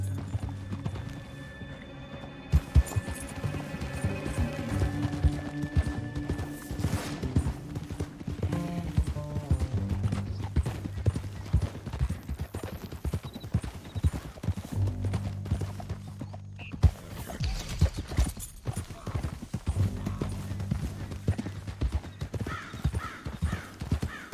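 Horses galloping in the Red Dead Redemption II video game, steady rhythmic hoofbeats running throughout with an occasional whinny, mixed under game music and ambient effects.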